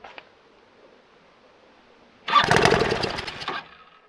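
An old engine sitting up on a block cranks and catches, bursting into a loud ragged sputtering run for about a second before fading, after a quiet stretch with a faint click.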